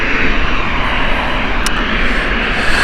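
An Airbus A320 jet airliner fitted with retrofitted sharklets at Gatwick Airport gives off a steady, loud, broadband engine roar that holds evenly throughout with no voices.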